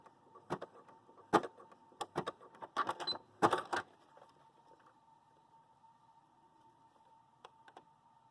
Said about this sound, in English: put my presser foot down, and I'm going to zigzag back and forth